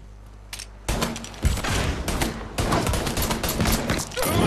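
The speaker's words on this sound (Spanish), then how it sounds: "cuántos tiros te tengo que dar para que mueras" Gunfire in the Mafia 3 video game: loud, dense bursts of rapid shots that start after a short quiet moment and continue almost without a break.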